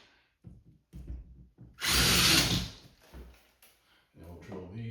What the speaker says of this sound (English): we're gonna drill our holes now to mount our wall anchors